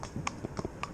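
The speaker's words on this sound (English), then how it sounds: "the horse is walking along perfectly happily" A Welsh Cob cross mare's hooves clip-clop as she walks, several soft distinct hoof strikes in an uneven walking rhythm within a second, heard close but faint.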